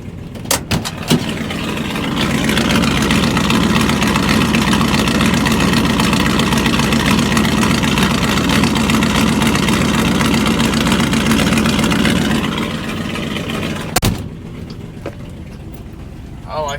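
Truck engine that has lost all its oil idles steadily and loud close by, a smooth continuous rumble for about twelve seconds before dropping away, with a few clicks and a sharp knock near the end.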